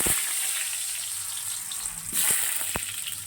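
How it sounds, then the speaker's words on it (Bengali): Potato pieces fry in oil in a wok, giving a steady, fairly soft bubbling sizzle with faint crackles and a couple of sharp pops toward the end. "সবার প্রথমে যেটা করব হচ্ছে আমি আলুটা ভেজে"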